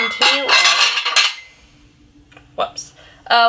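Thrifted dishes and a small teacup clink and knock together as they are handled, a few close, sharp bursts separated by quiet gaps.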